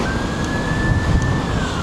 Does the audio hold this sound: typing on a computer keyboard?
no